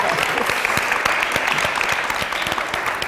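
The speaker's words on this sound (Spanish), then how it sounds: "Ya te estoy apagando el aplauso" Steady applause from a group of people at a colloquium on the Mexican theatre scene, dense clapping that fills the whole stretch at a fairly loud, even level.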